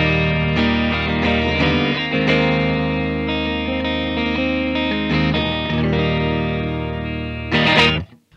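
A Fender Japan Michiya Haruhata Stratocaster electric guitar plays through heavy effects with distortion and chorus, sustained chords ringing loudly and steadily with a few changes, ending in a brief strum before cutting to silence.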